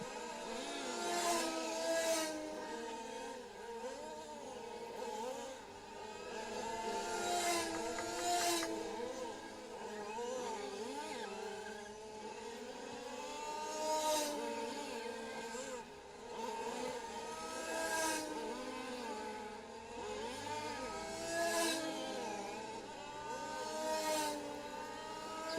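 Large-scale RC race cars lap a track at a European championship finals day, their small engines giving a continuous buzzing whine that rises and falls as several cars pass close by.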